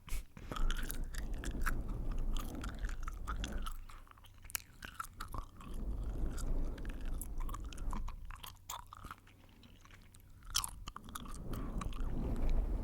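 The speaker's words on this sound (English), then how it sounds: "this would definitely not be acceptable outside of this ASMR video, but I do like gum chewing" Gum is chewed right against the microphone in a close, wet, smacking rhythm with crisp clicks and pops, continuous over a soft background hiss and no talk.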